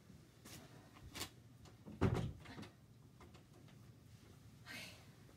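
A door at home knocks and rattles in a few soft thuds, with one louder bump near the middle, all close by in a quiet room with no one speaking.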